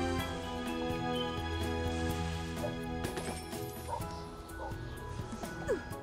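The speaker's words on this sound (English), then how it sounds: "I hear barking, which never means anything good." A dog barks and yips repeatedly over a busy, tonal game-like background with musical sounds. A brief whimper is also present.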